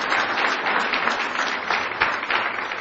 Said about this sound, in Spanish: Aplauso para recibir la palabra.